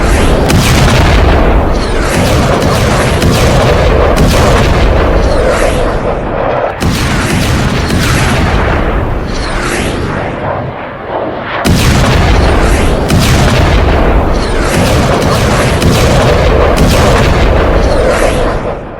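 Heavy, continuous booming and rumbling from phosphorus bombs fired by Israel in Lebanon, loud and dense throughout with rolling blasts that barely let up.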